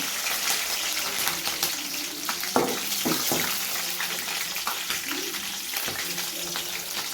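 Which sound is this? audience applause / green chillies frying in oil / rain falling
green chillies frying in oil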